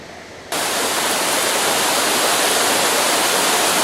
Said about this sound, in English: here we are, again, just looking at the waterfalls